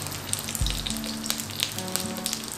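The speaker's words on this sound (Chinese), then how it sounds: "我们准备一个平底锅，然后倒入一点植物油，先把我们的3杯植物肉水饺整齐的排放上去" Frozen plant-based dumplings pan-fry in a little vegetable oil in a flat pan, giving a quiet, even sizzle with scattered tiny crackles and pops over a low hum.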